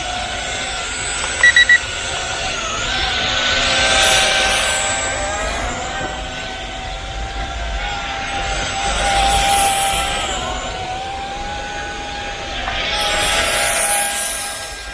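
Flying Speedy F42 toy drone airplane flying at low speed, a thin, whining electric motor buzz that swells and fades as it passes nearer and farther, with faint wind and outdoor background.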